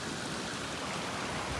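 Water rushes through a concrete-lined canal in a steady, dense hiss, fairly faint and unbroken from start to finish, with no voices.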